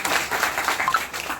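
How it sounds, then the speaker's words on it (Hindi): An audience at an award ceremony for high-scoring schoolchildren claps together, a close, brisk patter of many hands that keeps going throughout. "तालियां।"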